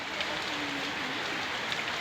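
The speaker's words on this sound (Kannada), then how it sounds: "ನೋಡಿ, ಚೆನ್ನಾಗಿ ಮಳೆ ಆಗ್ತಾಯಿದೆ." Steady rain falls in Tumakuru, India, a dense, even hiss of drops hitting surfaces that continues without break, close and fairly loud, with no speech.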